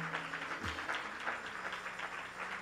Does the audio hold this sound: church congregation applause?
yes